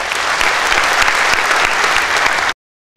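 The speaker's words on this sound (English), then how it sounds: "if you could please give them a round of applause" An audience at a university campus event applauds in a dense, loud wash of clapping for about two and a half seconds, then cuts off abruptly into silence.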